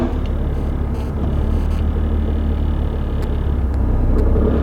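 A Chevrolet Camaro fitted with 4-inch quad exhaust tips rolls slowly up a ramp, a loud, steady low engine rumble and exhaust drone that holds through the clip without talk.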